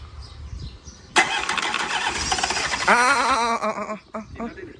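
An engine cranks and catches at about a second in, then runs loud and rough with rising revs, close by, with some background voices near the end.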